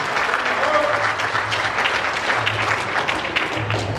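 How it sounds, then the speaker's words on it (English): Wedding guests at Foxchase Manor in Manassas, Virginia applaud during the best man's toast, with loud, dense clapping throughout and faint voices mixed in beneath it. "Good applause that."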